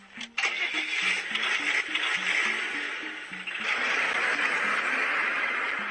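A car engine cranks with a rhythmic, chugging starter note, then catches and runs with a steady roar, picked up from a Top Gear segment.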